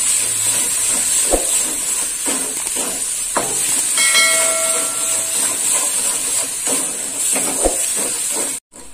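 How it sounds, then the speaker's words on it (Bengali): Ground coriander and cumin frying in oil for a prawn and long bean curry, a continuous loud hiss and sizzle with occasional clicks and a brief metallic scrape. "মশলা ভাজা হয়ে গেছে। মশলা এই যে তেল ছেড়ে দিয়েছে।"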